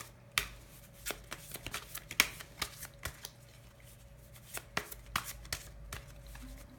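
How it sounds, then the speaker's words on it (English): Tarot cards shuffled by hand in a quiet room during a reading, a steady run of crisp riffling snaps and soft slaps, close and fairly quiet, with no talking. "I'm gonna keep shuffling on that one."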